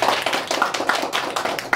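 An audience at a lucky-draw prize event claps for the winners, a brisk, close round of hand applause lasting a couple of seconds with no talk.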